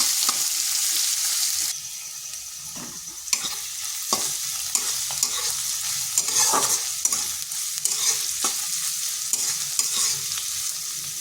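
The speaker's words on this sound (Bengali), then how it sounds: "পেঁয়াজটা একটু ভেজে নিচ্ছি, একটু নরম করে নিচ্ছি।" Large chunks of onion fry and soften in hot oil in a pan for an egg bhujia, a continuous close sizzle with frequent scraping and clinking of a stirring spoon.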